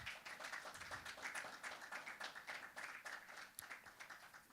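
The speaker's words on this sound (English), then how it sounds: "Please, another round of applause for him." Conference audience in Lagos clapping steadily, a dense patter of many hands at moderate distance, sustained and fairly even throughout without voices.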